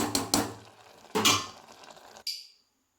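A metal lid going back onto a pot of capsicum gravy gives several close clanks and scrapes, ending in one bright ringing clink that fades into silence.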